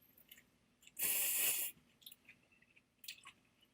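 Someone eats kimchi with ramen, giving a loud burst of crunchy, wet chewing up close, then softer smacking bites and mouth sounds in a quiet room.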